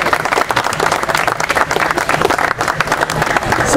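Audience applause at a family reunion on July 4th, a steady, loud wash of clapping from a crowd that continues for several seconds with faint voices underneath.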